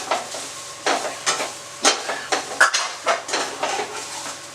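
Grated old coconut, about a cup, frying in a pan for a chicken chops masala, with a spoon stirring and scraping in steady repeated strokes over a soft sizzle, close and fairly loud.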